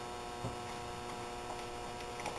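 A compressor on a ZUBER one-truck smokehouse runs as a steady low mechanical hum with a constant electrical drone, moderately close and unbroken, with no voices over it.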